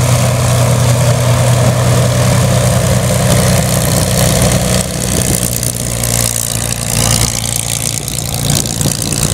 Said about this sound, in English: So we want the engine to warm up, but not warm up too much.